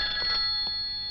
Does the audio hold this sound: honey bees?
no